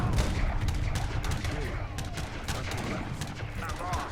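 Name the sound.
musket gunfire from units in the video game Age of Empires III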